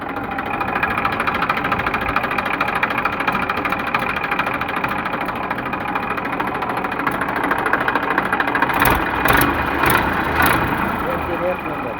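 A 2012 Massey Ferguson 8241 DI tractor engine idles steadily and close by, a constant low rumble with a few brief knocks near the end, while a voice talks over it.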